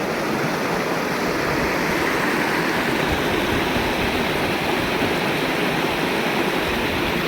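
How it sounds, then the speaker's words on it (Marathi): A loud, steady roar of water rushing over the spillway of the Jamwadi lake dam near Jalna, an unbroken torrent filling the whole scene with no voices. "त्या भिंतीच्या सांडव्यावरून येत असलेलं पाणी"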